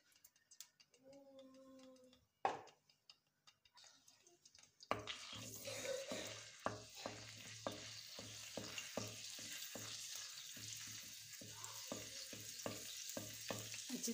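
Ginger-garlic paste, about a tablespoon, frying in half a cup of oil in a clay pot, setting off a steady loud sizzle with repeated stirring scrapes after a quieter opening with a few knocks.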